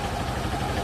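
A Suzuki Access 125 scooter engine idles steadily up close for under a second, a continuous even hum with a slight buzz.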